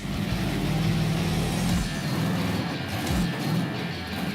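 Off-road buggy engine revving hard as it climbs over a large obstacle on a dirt race circuit at Sainte-Béatrix, a loud continuous drone rising and falling in pitch close by.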